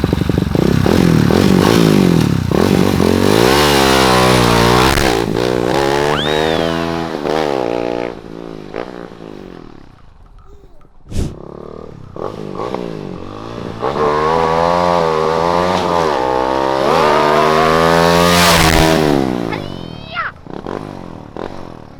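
A modified four-valve motorcycle engine revs hard and close, its pitch climbing and falling through repeated throttle blips, dropping briefly to a lower idle near the middle before surging loudly again.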